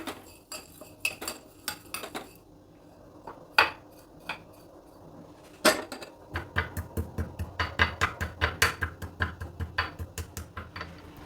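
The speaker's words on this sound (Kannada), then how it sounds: "ಈಗ ಇದನ್ನು ಕುಟ್ಟಾಣಿಯಲ್ಲಿ ಹಾಕ್ಕೊಂಡು ನಾನು ತರ್ತರಿಯಾಗಿ ಕುಟ್ಕೊಳ್ತೀನಿ" Roasted cumin and pepper are pounded in a mortar, first as scattered sharp knocks, then as a steady rapid run of close, clattering strikes, with no talking.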